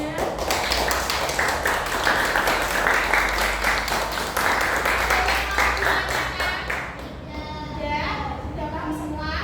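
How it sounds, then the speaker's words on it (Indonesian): Classroom applause for a group of schoolchildren after their presentation, lively clapping for about seven seconds that dies away as voices start talking. "Tepuk tangan buat kelompok bunga."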